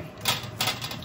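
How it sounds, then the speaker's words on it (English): Two crisp crunching cuts through a hot, freshly fried spring roll with a knife, short bursts about a third of a second apart, close and fairly quiet, with no talking. "I'm going to cut up a piece to show everyone what it looks like inside"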